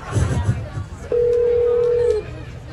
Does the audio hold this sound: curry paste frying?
no